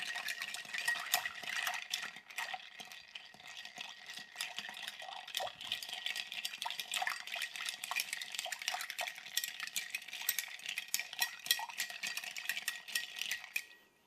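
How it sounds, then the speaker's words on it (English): Ice rattling and clinking against a glass as a mezcal Naked & Famous cocktail is stirred to mix and chill, a steady quick jingle close by with no talking. "Give this a good stir to mix and chill."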